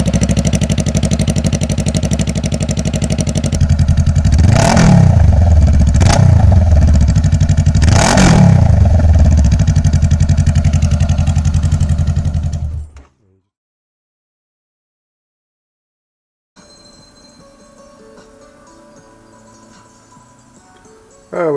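A Honda CB500X adventure motorcycle runs with the exhaust refitted but no muffler. It is a loud, raw idle with a few sharp revs, then cuts out to silence before faint background noise returns.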